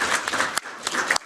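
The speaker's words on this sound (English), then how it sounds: "There is huge applause" Conference audience applauding, a dense close wash of many hands clapping in short bursts, with no speech over it.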